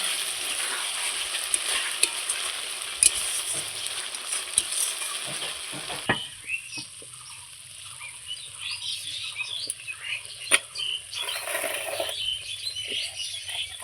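Rohu fish curry with garam masala is stirred in a pan, giving a steady close sizzle with scattered scrapes and clinks of the spoon against the metal and no voices.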